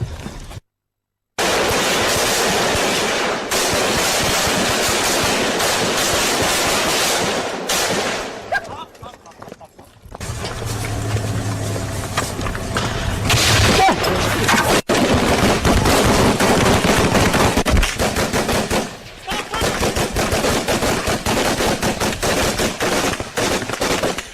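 Sustained battle sounds with dense bursts of gunfire and booming explosions, loud and close, nearly continuous with a brief silent gap early on; voices are faintly present.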